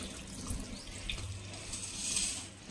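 Tap water runs and splashes quietly into an iron wok as flour residue is rinsed out, a soft continuous trickle with small swells and no talking.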